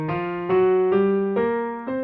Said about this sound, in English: Here's the blues scale.